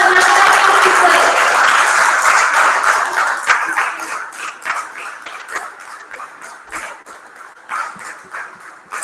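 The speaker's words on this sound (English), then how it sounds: "A huge round of applause for Karnataka people." An audience claps for award recipients coming on stage at a partner summit, loud dense applause at first that thins into scattered, uneven claps toward the end.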